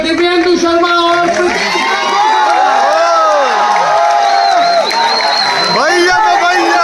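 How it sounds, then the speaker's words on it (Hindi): Large crowd at an evening stage event in Major Dhyan Chand Stadium cheering and whooping loudly, with clapping mixed into the roar, sustained and close, while voices shout over the din throughout. "जोरदार तालियों के साथ स्वागत करिए"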